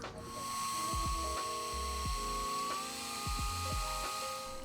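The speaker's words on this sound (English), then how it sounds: "We can start drilling again." Steady mechanical whine of a drill grinding on metal, with repeated low pulses as the bit catches and releases, close and fairly loud.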